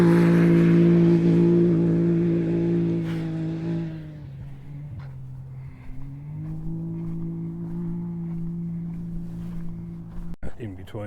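A rally car on a desert track near Alice Springs passes close by, its loud engine drone holding steady, dipping briefly as it goes past, then continuing before a sharp knock near the end.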